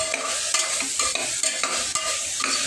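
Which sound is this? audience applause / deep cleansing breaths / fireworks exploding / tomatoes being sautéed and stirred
tomatoes being sautéed and stirred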